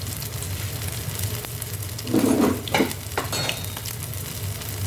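Burger patty frying in a pan alongside other cooking, a steady close sizzle with a louder burst of crackling spatter in the middle, under a constant low hum.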